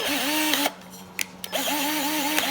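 A power drill fitted with a drill bit whirs close and loud in two short bursts with a brief gap between them, and a couple of clicks sound during the pause.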